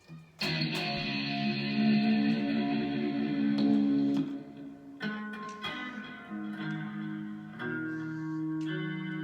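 Distorted electric guitar chords ring out loud and sustained, followed by shorter choppy strums and a held note, with no voices.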